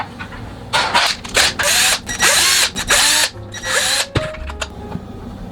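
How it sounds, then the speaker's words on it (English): A power drill bores 7/64 holes into an Aeon Pro shell in loud, close whirring bursts that start and stop several times, each spin winding up and down, with clicks in the pauses. "Now that we've drilled our holes,"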